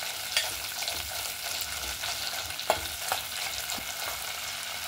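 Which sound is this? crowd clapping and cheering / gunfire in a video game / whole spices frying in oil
whole spices frying in oil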